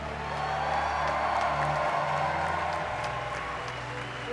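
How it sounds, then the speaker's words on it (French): Audience at a chessboxing fight night at the Olympia in Paris applauding the female fighters: a dense, steady wash of clapping from a large crowd that holds for several seconds, with a low hum beneath it. "Applaudissez les combattantes ce soir!"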